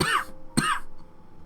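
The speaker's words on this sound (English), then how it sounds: "I'm having a bit of a cough." Two short bursts of coughing and throat clearing, close and fairly loud, separated by a brief pause, with no talking.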